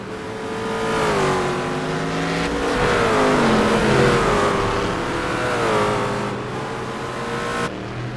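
GT race cars lapping Sebring in a racing game, several engines droning and revving together in a steady pack, gears shifting as the pitch rises and falls, loud and continuous.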